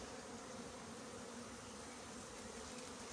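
Honeybees swarm around beehives in a community garden, a continuous dense buzzing drone that stays steady and fairly faint throughout.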